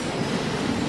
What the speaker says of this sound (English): I can't believe I'm getting me a train race right now